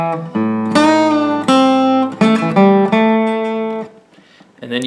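Guitar riff played as a lesson demonstration: bright, sustained picked notes in a steady phrase. The notes ring out close and clear, then fade briefly before a final note starts.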